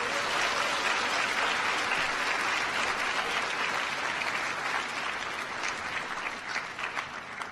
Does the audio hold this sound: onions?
no